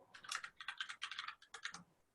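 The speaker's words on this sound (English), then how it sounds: "Somebody's typing." Rapid typing on a computer keyboard during an online coding practice session, a dense run of soft clicking keystrokes in short bursts with brief pauses, close and fairly quiet, no voices.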